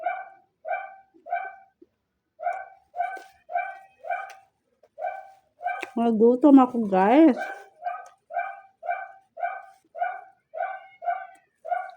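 A dog barks in steady repeated bursts throughout, close and loud, while a person talks briefly in the middle.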